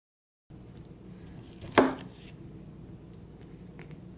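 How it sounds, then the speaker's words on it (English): A single knife chop through cauliflower on a cutting board lands as one sharp, close knock after a brief quiet stretch, followed by a low steady room hum. "So our cauliflower is almost cut up, and we're about ready to start blanching and shocking."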